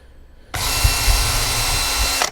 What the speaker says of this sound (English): Just put screws about every foot like that, or 30 centimetres